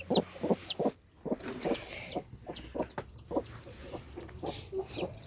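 Hens cluck in short repeated bursts nearby, with higher chirping calls from newborn chicks scattered throughout.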